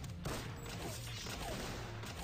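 Gunfire from weapons in the Madness Project Nexus action game, a steady dense stretch of shots and mechanical clatter filling the clip at moderate loudness with no talking.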